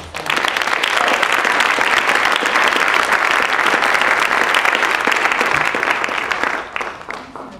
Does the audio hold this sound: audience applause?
yes